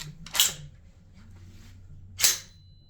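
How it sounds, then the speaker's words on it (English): Bolt of a rifle let go on an open chamber gives two short, bright metallic clicks with a faint ringing ting, about two seconds apart, in a quiet setting with no talk. "open chamber, and let the bolt go. It does a little bit of a ting."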